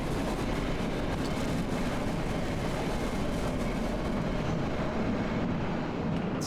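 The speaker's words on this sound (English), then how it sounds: "the train's gonna move now and it's gonna take out that monster" Train from the horror game Cry of Fear rumbling along continuously, a dense, loud roar of rolling noise with no breaks across the whole stretch.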